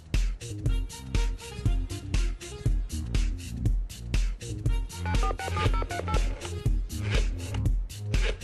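A phone number is dialed to call a television studio: a quick run of touch-tone beeps in uneven bursts over a steady bed of background music, with no talking.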